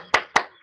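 Two sharp hand claps ring out close together, quick and crisp, during a bottle-matching party game.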